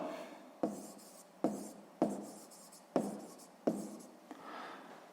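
Pen or chalk strokes writing out a math answer, six short sharp scratches in an even rhythm, close and fairly quiet, with no talking.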